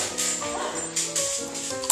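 A dog yips and barks in quick, close whimpering bursts indoors, a short run of high, wavering calls over about two seconds.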